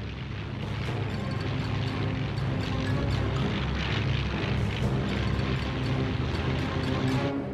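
German bombers of the Luftwaffe in a massive daylight raid, a dense continuous drone of many propeller engines, loud and sustained with faint booms underneath.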